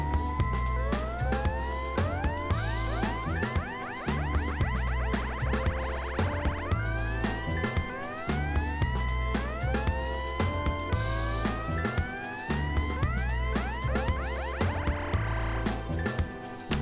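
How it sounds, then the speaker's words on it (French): A Korg Mini KP 2S effects unit plays its disco siren effect, repeated rising electronic sweeps gliding upward over a looping beat, steady and continuous throughout. "Le disco sirène"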